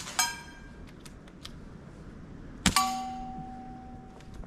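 Two sharp metallic pings of airgun pellets striking a metal can, the second louder with a ringing tone that lingers and fades, separated by a few quiet seconds.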